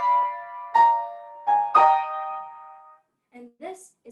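Piano right hand plays a few struck notes of a melodic line from a Moszkowski piece, each ringing and decaying cleanly, before a voice begins speaking near the end.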